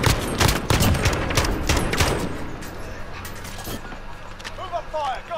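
G36 rifle fire in a shooter video game: loud, rapid bursts crackle in a dense volley for about two seconds, then thin into sparser shots and faint chirpy effects over a steady background rumble.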